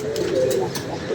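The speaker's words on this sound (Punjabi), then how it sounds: "ਕਬੂਤਰ ਸਾਹਮਣੇ ਸੀ, ਇੱਕਦਮ ਨਿਕਲ ਗਏ ਨੇ" Pigeons flying out in gusty, windy weather, a steady wind rush with a brief low cooing tone over it.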